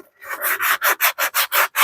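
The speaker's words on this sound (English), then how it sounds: "just an old Harbor Freight medium sanding sponge" A medium sanding sponge scrubs rhythmically against a metal part from a 1976 Yamaha XS650 motorcycle, about seven quick back-and-forth strokes, each a close, gritty rasp separated by brief pauses.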